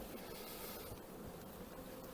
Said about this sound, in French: j'écarte les abeilles sans les écraser